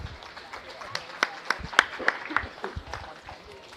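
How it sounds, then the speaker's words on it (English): A crowd claps for a young cattle exhibitor at a county fair beef show, moderate scattered applause with sharp individual claps, under an announcer's voice. "Give him a big round of applause"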